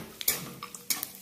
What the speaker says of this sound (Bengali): কাজু আর কিশমিশটা হালকা ফ্লেমে দিচ্ছি,